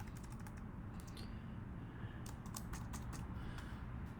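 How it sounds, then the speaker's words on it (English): Quiet computer keyboard typing comes in short bursts of clicks and taps, faint and close, with brief gaps between clusters of keystrokes. "I'm going to type in the names of the layers."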